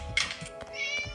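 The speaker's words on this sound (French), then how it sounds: "le chat n'arrête pas de miauler." A cat in the horror game Scary Vampire 3D lets out a couple of close, insistent meows in quick succession, with faint game ambience underneath.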